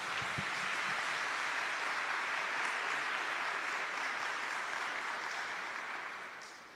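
An audience at a Catholic talk on Marian consecration breaks into continuous applause, a dense wash of clapping that holds steady and tapers off near the end.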